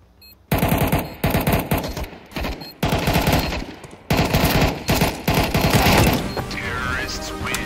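Rapid bursts of automatic gunfire in Counter-Strike 2 on the Dust map in competitive play, loud, close and repeated in clustered volleys with short gaps, with voices talking underneath.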